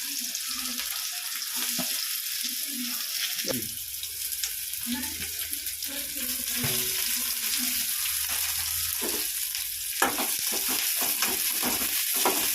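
Mustard seeds and lentils frying in hot oil left from cooking vadai, for a banana flower stir-fry; a steady bright sizzle with crackling pops and occasional spoon stirring runs throughout at close range, with no talk.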